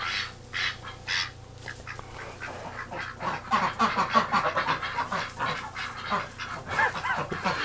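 A pet duck named Magoo quacks repeatedly in short, rapid bursts, loud and close, with other honking fowl calls mixed in and a low steady hum underneath.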